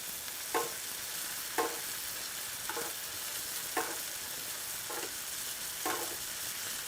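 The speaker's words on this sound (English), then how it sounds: "you'll tilt the pan towards you and let all of that butter sort of sit towards you, and then you just want to baste" A NY strip steak fries in a pan while garlic herb butter is spooned over it, giving a steady close sizzle broken by soft rhythmic splashes of basting about once a second, with no voices.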